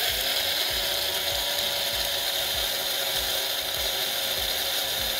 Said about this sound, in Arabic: كوبايه الشعريه دي اطحنها حلوه قوي في مطحنه الايه، التوابل